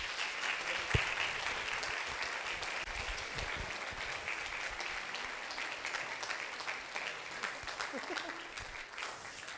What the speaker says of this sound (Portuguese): Aplauda o Senhor por eles.